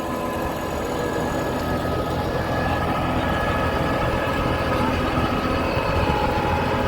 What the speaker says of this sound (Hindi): इको प्लस में ट्रैक्टर चल रहा है